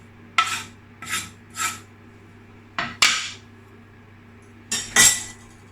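A utensil scrapes and clinks against a bowl while chopped parsley and dill are stirred into a vegan, gluten-free leek quiche filling, in about six short separate scraping strokes close by.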